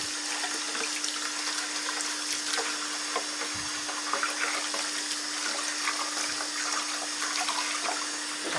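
Water from a tap runs steadily and sloshes as a uranotype photographic print is flushed and rinsed in a tray, with a close, continuous splashing and a few louder swishes.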